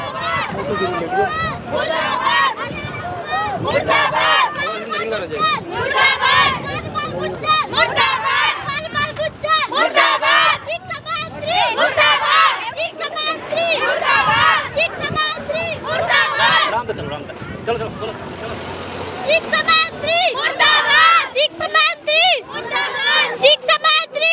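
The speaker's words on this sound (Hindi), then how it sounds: "शिक्षा मंत्री मुर्दाबाद के नारे लगाते हुए ये छोटे छोटे बच्चे" Small children shouting slogans against the education minister at a rural protest march over a teacher shortage, a loud chanting crowd of young voices that carries on throughout, mixed with babble and movement.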